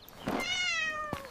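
A cat gives a single clear, drawn-out meow that slides downward in pitch, close and fairly loud, with a soft click just after in an otherwise quiet background.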